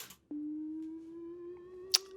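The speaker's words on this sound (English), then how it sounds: "I'm modulating the wavetable here from sine wave up to square wave, which goes from a simple sort of like, smooth riser to this really nice weird riser" Ableton wavetable synth riser whose wavetable is modulated from sine toward square, a thin steady tone gliding slowly upward and gaining harmonics, brief click near the end.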